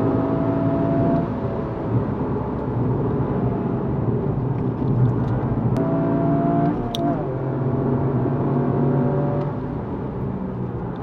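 Toyota GR Yaris 2022 driven hard on a race circuit, engine droning loud and steady with rising and falling revs through corners, including hard braking into turns, continuous throughout.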